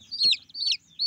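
Shrill, rapid peeps from a white chick among dyed rainbow chickens kept in cardboard cages, two loud close calls and the start of a third, with a soft knock in between.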